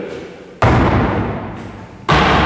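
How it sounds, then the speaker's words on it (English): Two heavy, close thuds of someone landing hard, each with a deep rumbling impact that slowly fades, about a second and a half apart. "as you can hear from that, there's a very heavy landing"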